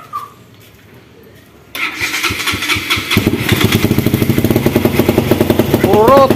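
A Kawasaki NS 200 motorcycle with a faltering, stalling engine cranks and starts up close, then settles into a loud, steady idle with rapid even pulses, a brief quiet stretch before the start.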